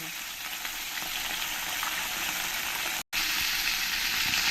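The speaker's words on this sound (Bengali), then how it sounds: "দেখো আমার মাছগুলো সব ভাজা হয়ে গেছে" Fish sizzling in hot oil in a pan, a steady dense frying hiss that runs loud and unbroken, cut by one brief silent gap near the end.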